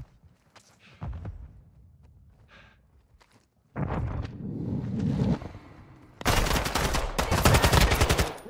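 Pistol gunfire in the DMZ extraction shooter. A few scattered shots and light movement give way to dense bursts of rapid firing, close and loud, over busy game background.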